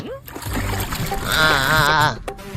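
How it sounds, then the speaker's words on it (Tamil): Water poured and splashing during an Ayudha Puja celebration cleanup, a continuous sloshing, splattering stream that swells in the middle, close by with voices talking around it. "தண்ணி ஊத்திட்டே"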